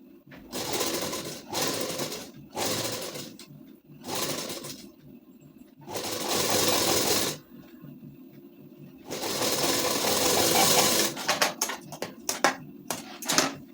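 A sewing machine stitches a ladies suit in repeated stop-start runs of rapid needle clatter, close and steady, broken by short pauses and ending in a flurry of quick clicks.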